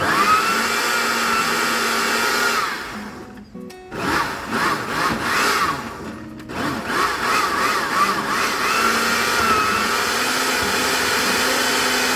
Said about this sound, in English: When you pulse it, it makes the seasoning move down, so it will be easier to blend.